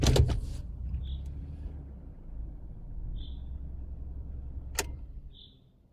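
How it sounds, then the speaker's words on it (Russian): A car engine idles with a low, steady rumble, then a click comes shortly before the sound dies away as the engine is switched off. A few faint high chirps sit above it. "сейчас я заглушусь."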